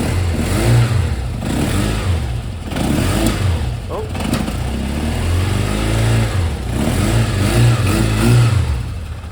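Kawasaki Zephyr 750 four-cylinder motorcycle engine running after restoration, idling and blipping through repeated revs close up, with excited voices talking over it.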